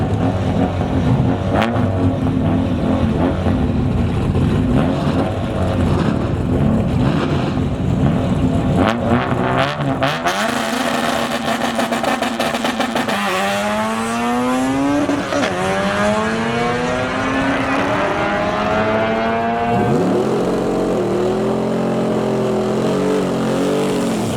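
A Honda drag car runs hard down a drag strip, its engine roaring loud and close, revving up through several gear changes with rising and falling pitch sweeps and no talk over it.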